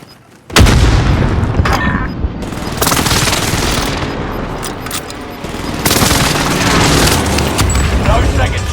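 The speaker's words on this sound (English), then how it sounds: "Under fire! Enemy precision airstrike." Enemy precision airstrike explosions in a video game: heavy booms and rumbling blasts arrive in quick succession and roll on loudly, with voice callouts heard among them.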